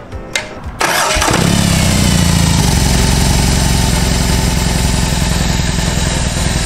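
A BMW R18 motorcycle engine fires up with a sharp start, then settles into a loud, steady, throbbing idle close by that continues to the end.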